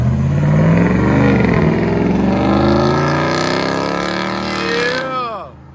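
A Ram 2500 Power Wagon's 6.4L Hemi V8 with a Flowmaster Outlaw exhaust and 5-inch black tip rumbles loudly up close, its deep tone shifting as it revs, then drops off sharply at the end.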